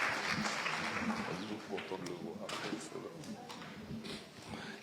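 Loud, sustained applause from a crowd at a Guadeloupe regional ceremony honouring high school graduates, clapping dense at first and easing slightly, with voices mixed in.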